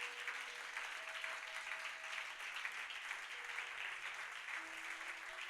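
A church congregation applauding and cheering the Lord at the close of an intercession prayer, a steady wash of clapping from many hands held at an even, fairly distant level throughout.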